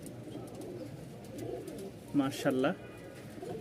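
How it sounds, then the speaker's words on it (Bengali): Johnson bloodline racing pigeons at a pigeon market in Mirpur-1, Dhaka, give soft low cooing, with a pair of louder coos standing out near the middle, while someone talks over a murmuring background. "আজকে হচ্ছে আমরা 2 জোড়া যেই জনসন ব্লাড লাইনের কবুতর দেখাচ্ছি।"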